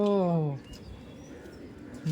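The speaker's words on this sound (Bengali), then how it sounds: "বাহ এটা হলো একত্রিশ নাম্বারের পায়রা" A ringed pigeon, number 31, a Sakhi teddy pigeon kept at a home loft in Barasat, gives a short low coo at the start, followed by quiet background murmur.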